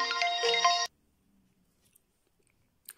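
A ringtone plays from the speaker of a realme C25S smartphone, a loud bright melodic chime for under a second, then it stops abruptly, leaving near silence with a few faint handling clicks.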